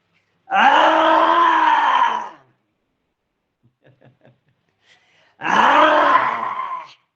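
During a yoga session, people imitate a tiger's roar in two long, strained, throaty bellows, each lasting over a second, separated by a quiet gap with faint murmuring.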